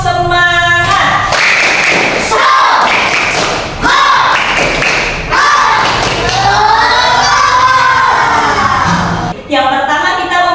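Primary school children chanting and clapping a rhythmic group cheer in a classroom, loud rhythmic claps and thumps interleaved with shouted voices, close and energetic throughout.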